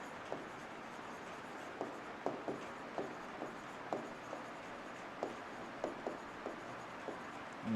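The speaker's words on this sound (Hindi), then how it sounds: "चलिए क्वेश्चन लिखते हैं एक," Marker strokes on a board as a GATE civil engineering RCC design question about a square column is written out, with short scratchy strokes arriving in an irregular rhythm every second or so, close and moderately quiet, with no talking.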